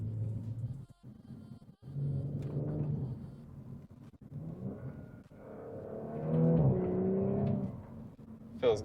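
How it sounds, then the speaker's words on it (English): Audi B9 S4 cornering through a series of turns, its engine a steady low rumble that swells and falls with throttle, rising to a louder surge near the end; no talking over it. "Okay, so we're going around some turns."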